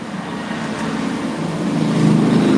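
Motorbike engines in the Free Fire video game, a continuous droning motor hum that grows louder and rises in pitch toward the end, steady and close with no talk.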